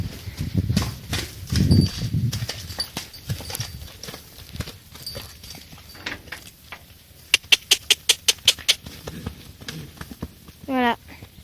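Untied horses moving about freely outdoors, scattered hoof thuds and scuffles under someone speaking French, then a quick run of sharp, evenly spaced clicks near the end.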